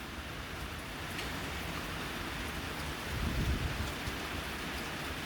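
Steady rain pours on the bayou and drums on a tin roof, a dense continuous hiss with a brief low rumble swelling midway, no voices.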